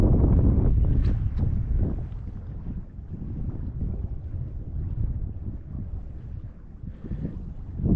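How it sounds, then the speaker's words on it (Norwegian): Wind rushes and buffets outdoors by the water while sea trout fishing in Indre Arna, Norway, a steady low roar with gusty bursts and no voices. "Litt vind."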